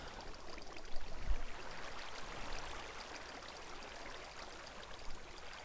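Water flowing after being placed in Minecraft, a soft, continuous rushing and trickling wash, steady and fairly faint, with no talking.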